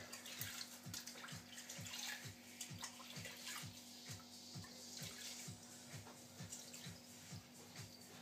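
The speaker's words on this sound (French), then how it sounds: "Ne pas oublier de rincer non plus. Ok, donc on rince." Water from a tap pours steadily to rinse a glass terrarium, making a constant splashing rush with faint rhythmic ticking underneath, quiet and close by.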